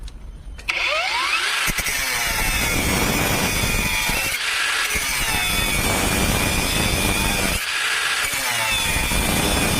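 Einhell TP-AG 18/125 cordless angle grinder cutting sheet metal, a loud high-pitched screeching whine in three long cuts separated by brief pauses, starting after a short quiet moment, with no talking.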